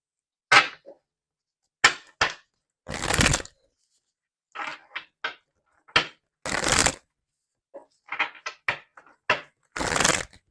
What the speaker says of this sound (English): let's get some more cards to see more of what's going on here.